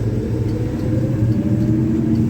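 A 1976 Dodge D100 pickup with a slant six engine drives along, a steady mid-pitched engine hum and rumble heard close from inside the cab, constant throughout without speech.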